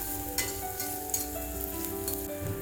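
Chopped onions sauté in a pan with a steady, moderate sizzle, broken by a few brief clinks and stirring scrapes, close by with no voices.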